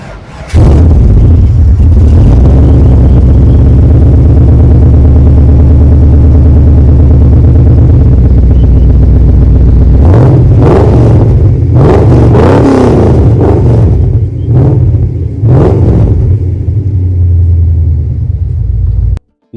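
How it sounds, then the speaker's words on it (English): An HSV VT Senator 220i stroker V8 cranks and fires into a loud, deep rumbling idle, then gets several sharp blips of the throttle with rising revs and crackles, close up with no talking. "It's time to start the stroker up and have a bit of a listen."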